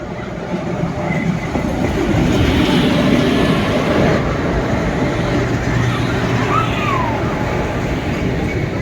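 A coal freight train rolls past a roadside spot in Odisha, giving a sustained loud rumble and clatter of wagons that stays steady and near throughout, with a faint squeal on top and no speech.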